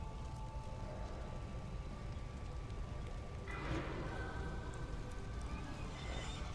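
Horse hooves from a mount in the video game World of Warcraft, faint clip-clopping beneath a quiet, hissy game ambience, with a brief brighter swell partway through.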